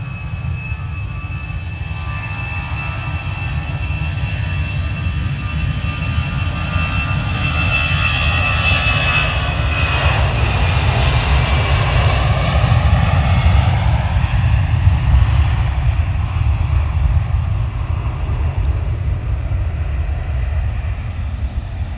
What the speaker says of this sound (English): EasyJet Airbus A320 departing to Porto.